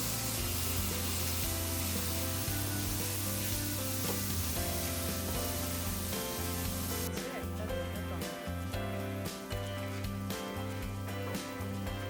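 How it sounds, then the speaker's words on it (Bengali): Onions fry with chili powder and cumin powder in a pan for a rui fish curry, a continuous sizzle with occasional stirring knocks over a steady tonal hum. "পেঁয়াজের সাথে মশলাগুলোকে ভালো করে কষিয়ে নিচ্ছে।"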